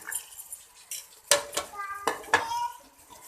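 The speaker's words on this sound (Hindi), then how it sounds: "अब मैं इसमें डाल देती हूँ मटर" Peas tip into a pan of frying keema with a few sharp metallic clatters and scrapes of a spoon against the pan, light sizzling underneath and faint background voices.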